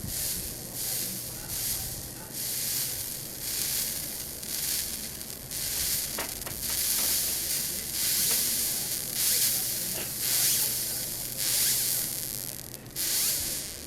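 Hissing, crackling sizzle of a vape coil with hot legs, fired in short repeated pulses on an Odin mod, close up with a steady rhythm of bursts and no talking.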